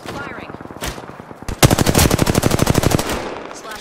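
Rapid automatic gunfire in a shooter video game, a dense burst of evenly spaced loud shots firing for over a second after a few scattered sounds, close and dominant.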